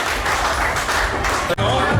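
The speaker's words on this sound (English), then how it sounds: "Give yourself a round of applause." An audience at a venue opening in Pattaya breaks into applause, a broad, even wash of clapping that holds steady with one brief dip near the end.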